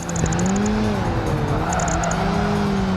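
Race cars roaring through street circuits in Project Gotham Racing 2, engines droning and shifting pitch steadily at close range with faint tire squeal, loud and continuous with no talking.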